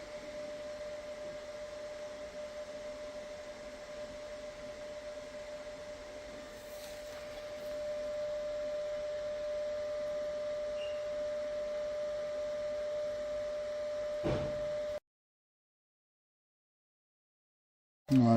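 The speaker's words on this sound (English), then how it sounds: "let's get some weld on." MIG welding on the sills of a Ford Transit van: a steady, even buzzing hiss that holds for about fifteen seconds with a constant whine, a brief crackle near the end, then a sudden cut to silence.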